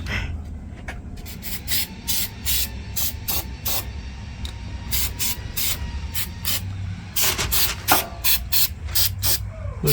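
Bed liner sprayed from a can onto plastic car panels of a Suzuki Grand Vitara outdoors in light wind: repeated short hissing spray bursts in irregular rhythm, close and fairly loud over a low background rumble.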